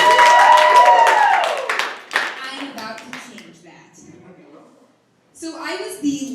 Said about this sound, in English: Clap if you feel like you like me.